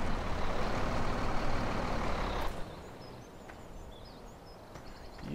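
A fast truck in the farming game Giants Island roars loudly and steadily for a couple of seconds, then drops to a quieter engine hum with faint chirps and beeps over it.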